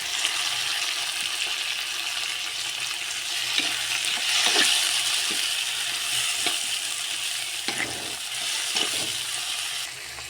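Onions sauté in oil for a South Indian prawn thokku, giving a steady, close sizzle with occasional spoon scrapes and stirring knocks, all without talk.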